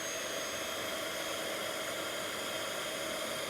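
An embossing heat tool blows a steady, airy hiss while warming embossing powder on vellum held up in the air, constant and unbroken throughout.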